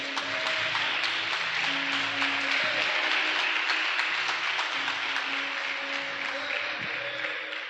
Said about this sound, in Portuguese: dê uma salva de palmas para Jesus aí